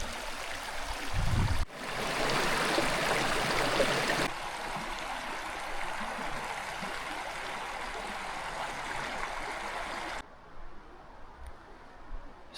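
A river flowing through the Gila National Forest makes a steady broadband rush of water, loudest early on with a brief low thump near the start, then continuing at a softer level before easing off near the end.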